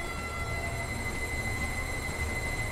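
Electric train running in the Transport Fever video game, a steady rolling rumble with a faint high whine and light wheel squeal, continuous at moderate level, no voices.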